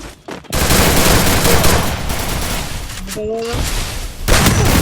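Gunfire from the Free Fire battle royale video game, a continuous loud fusillade of rapid shots running through nearly the whole stretch, with a brief pause near the start and a short tonal blip midway.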